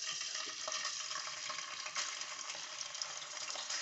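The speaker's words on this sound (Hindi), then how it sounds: "और अब इसमें मैं ये लहसुन अदरक जो है ना ये डालूँगी" Garlic and ginger frying in half a cup of hot oil, a steady dense sizzle that holds at an even level the whole time, close by with no voices.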